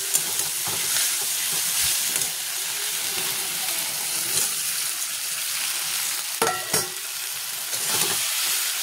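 Soya chunks stir-fried with spices and whole garam masala, giving a steady close sizzle with intermittent scraping and stirring clatter throughout.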